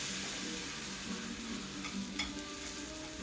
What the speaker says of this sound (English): once you get your pan really nice and hot, throw your beans on there